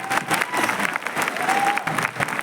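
An audience at a Safe Shop event breaks into loud, dense applause, a steady patter of many hands clapping with crowd noise mixed in.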